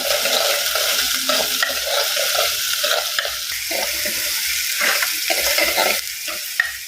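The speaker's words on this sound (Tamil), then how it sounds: "வெங்காயம் நல்லா வதங்கி வரணும்" Onions sautéing in a clay pot for a dried-fish curry, a steady close hiss of frying with repeated scraping stirs throughout, no voices.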